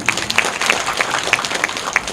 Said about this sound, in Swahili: Naomba tumpigie makofi zaidi.